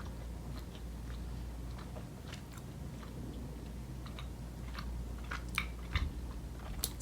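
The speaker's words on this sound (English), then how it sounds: "Very hard to chew though. Very rubbery." Someone chews Haribo Sour Vampire Bats, a rubbery sour gummy candy, with soft wet mouth sounds and faint clicks going on steadily and close up for several seconds, with no talking.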